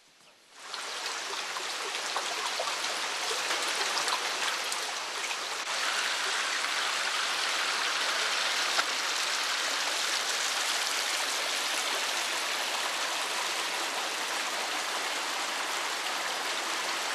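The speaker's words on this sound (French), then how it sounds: "de chaque fissure de la roche, l'eau sort" The underground Chara river pours from fissures in the rock inside a cave system near Taza, a loud, steady rush of flowing water that begins abruptly and continues without pause.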